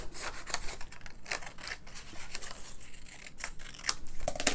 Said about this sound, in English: I'm just going to take this and cut it like this way down the middle